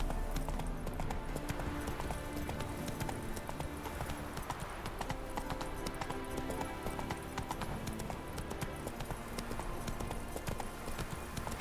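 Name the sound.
horse Roach galloping, hooves, in video game The Witcher 3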